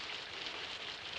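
Steady rain falls in a 1950 western setting, a dense, even hiss of drops with no pauses, fairly loud and continuous, with no voices.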